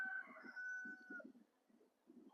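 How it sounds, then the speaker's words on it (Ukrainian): A rooster crows once, faint and distant, over quiet background with soft low thumps. "півень кричить"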